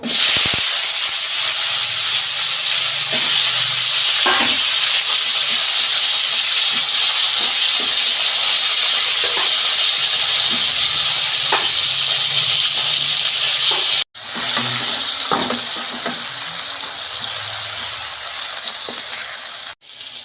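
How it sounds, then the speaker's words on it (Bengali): Flat beans coated with salt and turmeric frying in oil, a loud, constant close sizzle with occasional stirring knocks, briefly cut off once partway and again at the end. "আর হলুদ মেখে নেব সিমটাকে আমি ভেজে নেবো"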